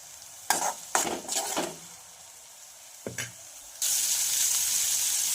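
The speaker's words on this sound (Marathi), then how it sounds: "तर इथं बघू शकता तुम्ही वाटण आपलं छान दोन ते तीन मिनटं फ्राय झालेलं आहे" Ground spice paste with green chillies fries in a pan, heard as a few sharp spoon-stirring scrapes and clatters over a low sizzle, followed by a louder, steady frying hiss near the end.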